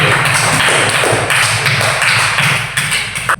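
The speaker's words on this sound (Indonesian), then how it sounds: "kita beri aplaus dulu." Classroom applause for student groups, a loud, dense burst of many hands clapping close by, sustained throughout and thinning slightly at the end.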